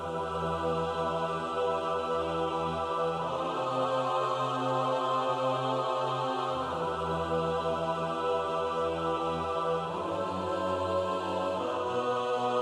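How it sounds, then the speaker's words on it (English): A dense, sustained orchestral chord swells continuously, with low strings and brass holding thick layered notes that shift a few times. "I found this heavy orchestra"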